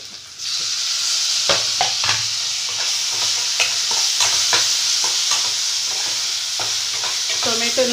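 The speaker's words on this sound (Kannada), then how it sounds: "ಈಗ ಇದಕ್ಕೆ ಟೊಮೆಟೊ ಹಾಕ್ಕೊಳ್ತೀನಿ ಲಾಸ್ಟ್ನಲ್ಲಿ" Tomato frying in a pan with tamarind for a chutney, sizzling steadily while repeated scraping stirs and clinks of the spoon break through at irregular intervals.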